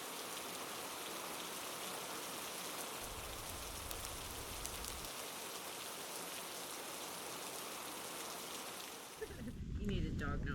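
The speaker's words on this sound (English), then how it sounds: "Oh, it's been raining for the past few hours now." Steady rain pours down at a campsite, a dense continuous hiss filling the whole clip, with a brief low rumble near the end.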